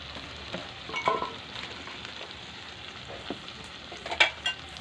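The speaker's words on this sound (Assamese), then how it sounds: "ৰঙালাও আৰু মাংসখিনি দি দিছোঁ।" Pumpkin and meat fry quietly in a pan with a soft, constant sizzle, broken by a few scraping stirs and utensil knocks nearby, with no speech.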